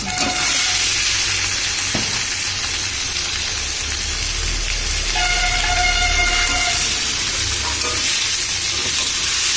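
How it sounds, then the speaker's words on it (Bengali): Chicken pieces rubbed with turmeric hit fried spices in a hot pan and sizzle loudly and continuously, with stirring scrapes throughout and a faint horn-like tone passing in the background. "মশলাটা আমার ভাজা হয়ে গেছে এবার আমি এতে মাংস দিয়ে দিচ্ছি"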